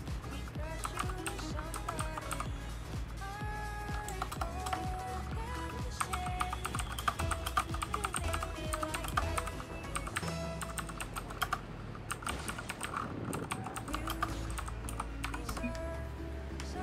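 Rapid typing on a computer keyboard, dense continuous clicking keystrokes close up over a low background hum.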